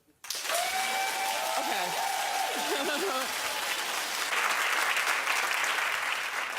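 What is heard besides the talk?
studio audience clapping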